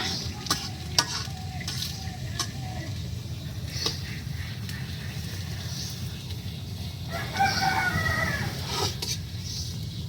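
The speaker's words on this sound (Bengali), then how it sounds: "অনেকদিন পর মুরগের ডাক শুনলাম" A rooster crows from a distance for about a second and a half, rising above a steady backdrop of food sizzling and being stirred in a pan, with occasional light clinks.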